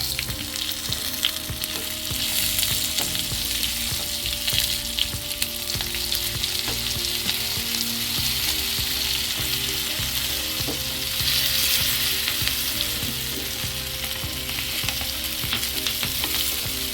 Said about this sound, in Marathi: अशा दोन्ही बाजूने मिरच्या 2-2 मिनिटांनी हलवून घ्यायच्या आणि बारीक गॅसवर भाजून घ्यायच्या।